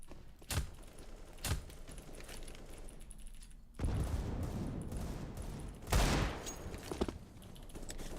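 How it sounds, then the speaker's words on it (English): Counter-Strike match with sharp bursts of gunfire, a flashbang throw and a loud detonation, plus clicking game mechanisms, all fairly quiet in the mix with no talk. "Throwing a flashbang."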